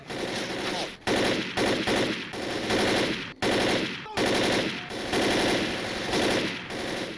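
Rapid automatic gunfire in the zombie shooter Left 4 Dead, loud and close, in sustained bursts broken by a few short gaps.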